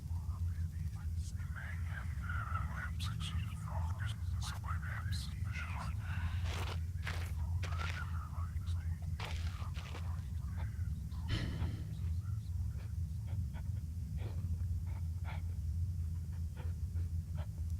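Whispering voices and a panting creature in the horror game Penumbra Overture sound low and breathy beneath a constant droning ambient hum, with scattered soft thumps and rustles throughout.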